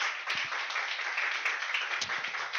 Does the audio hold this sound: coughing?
no